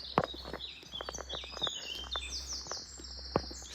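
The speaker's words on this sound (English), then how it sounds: "So lovely listening to those birds" Birds singing along a woodland track: quick bright chirps and twittering trills, some close and some farther off, over a quiet low background hum.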